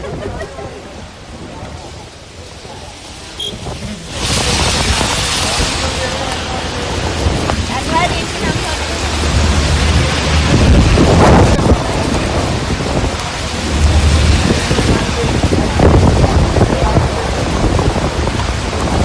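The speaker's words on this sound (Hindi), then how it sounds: "और तेज हवाओं के साथ बारिश शुरू हुई है" Heavy rain falls with strong gusting winds in Delhi, a dense roaring wash that swells louder after a quieter start, with wind buffeting the microphone and a voice talking over it.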